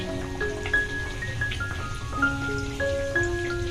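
Poa pitha batter frying in hot oil, a soft continuous sizzle with scattered pops and bubbling, heard without talk.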